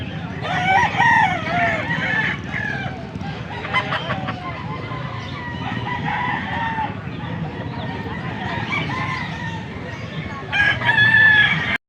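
Several Boston gamefowl roosters crowing and clucking at a busy poultry market in Angeles, Pampanga, overlapping crows rising above a dense crowd murmur with occasional voices.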